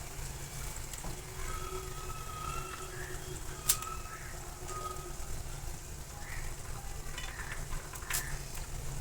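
Mixed vegetables, including broad beans, sizzle steadily as they sauté in a pan, giving a continuous, fairly faint frying hiss with a few small clicks and no clear talk.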